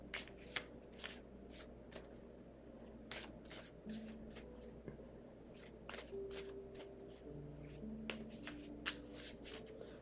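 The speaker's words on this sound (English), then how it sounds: "I'm going to give this another shuffle" Tarot cards are shuffled in quick bursts of crisp riffling and slapping, heard close and fairly quiet over a low steady hum, with faint tones in the background.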